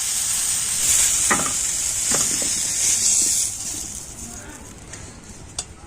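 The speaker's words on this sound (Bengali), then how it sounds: "আলু আর কুমড়োটা কিন্তু আমি ভেজে নিচ্ছি" Potatoes and pumpkin frying lightly in oil in a kadai, a steady loud sizzle broken by scraping stirs that fades softer toward the end.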